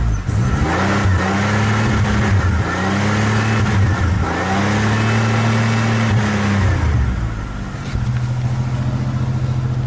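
A car engine with a cutting-out fault revs up and drops repeatedly in uneven surges, stumbling and dipping as it cuts out, then settling to a rough idle.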